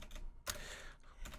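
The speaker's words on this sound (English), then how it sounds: "You know what, we're going to type it." Keys clatter on a computer keyboard nearby, a brief burst of typing with one louder keystroke, heard alone.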